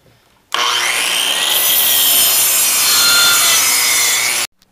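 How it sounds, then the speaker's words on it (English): A table saw blade bites into a block of wood with a loud, sustained whining rasp for about four seconds, starting and stopping abruptly. "time to cut this block in half"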